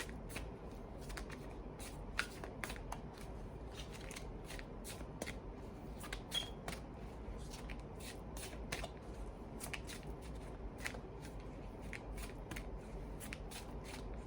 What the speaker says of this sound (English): Okay, let's get 2 more cards for Capricorn.